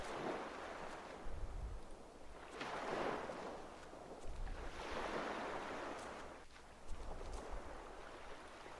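Sea waves in the video game The Last Door roll in and wash back in slow, repeating swells, a soft steady surf with low rumbles on each wave and no voices.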